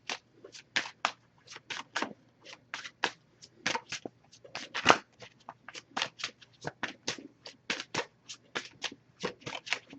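Oracle card deck being shuffled by hand in steady rapid riffling bursts, crisp and close, continuing throughout with short pauses between flicks.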